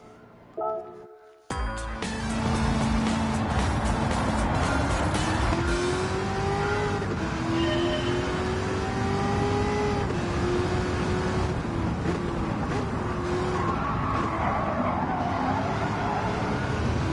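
Corvette engine in Gran Turismo 7, played in VR with a direct-drive wheel, rising and falling revs with shifting pitch sweeps, loud and continuous after a brief quieter start.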